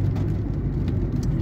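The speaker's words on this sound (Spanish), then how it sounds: "nos agarró la lluvia" Rain pours steadily on a moving car on a rural drive near Angostura, Sinaloa, a loud, dense patter drumming on the roof and windows over the low rumble of the vehicle, with no voices.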